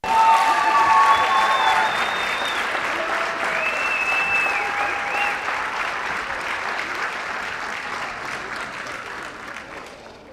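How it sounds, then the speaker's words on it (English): A crowd gives a long, loud round of applause honoring the graduating class of 2023 at a Legends FC senior night, with some cheering mixed in. The clapping is steady and sustained throughout, fading slightly toward the end. "one last round of applause for that class of 23"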